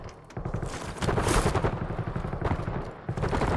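Dense, loud bursts of gunfire in Call of Duty Warzone, rapid overlapping volleys of automatic shots running almost without pause, close and heavy, with a short lull near the end before the shooting resumes.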